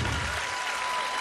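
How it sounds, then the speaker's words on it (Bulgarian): Audience applause for Nencho on a Bulgarian comedy show, a steady dense wash of clapping throughout, loud and close. "Аплодисменти! За За Ненчо."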